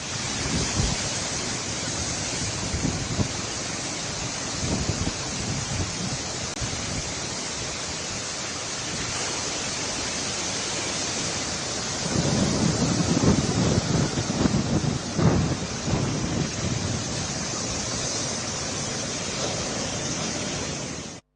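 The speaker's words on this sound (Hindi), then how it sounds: "काकीनाडा के साहिल पर समंदरी लहरें बढ़ चुकी हैं।" On the Kakinada coast during Cyclone Montha, sea waves and strong wind make a constant loud, broad roar. It buffets the microphone and swells heavier partway through, with no voices.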